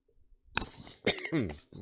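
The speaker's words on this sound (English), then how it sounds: "Sorry for the cough." A single sharp cough bursts out, followed by a voice speaking nearby.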